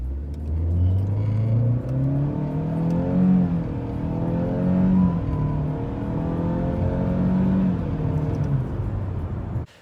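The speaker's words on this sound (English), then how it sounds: "let's get a quick 0 to 60 run. I'll just punch it, you know, no brake torquing." A 2019 Chevy Malibu LT launching hard from a standstill to 60 mph, heard from inside as the engine drone climbs steadily in pitch through several rising sweeps, loud and continuous until it cuts off.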